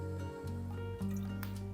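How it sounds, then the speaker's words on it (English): Blue Curaçao is poured into a tequila cocktail, making a short liquid trickle and splash close up over a steady tonal background hum. "the blue Curaçao we're going to pour"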